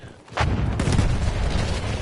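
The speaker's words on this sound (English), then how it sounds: "as a huge explosion goes off at Bravo" Explosion and gunfire in a conquest-mode shooter video game: a sudden loud boom, then dense, rumbling battle noise that goes on to the end.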